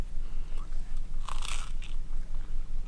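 A close, loud crunchy bite into a crispy hot dog grilled on a Rolla Roaster telescoping fork, followed by a few smaller crisp crunches and soft chewing, no speech.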